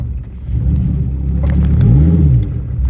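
A Gen 3/4 Dodge Viper fitted with a clutch pedal ratio kit pulls away up a hill from a driveway, its engine rumbling loud and close and rising in a short rev as it accelerates.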